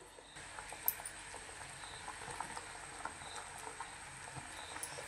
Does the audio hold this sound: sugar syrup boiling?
yes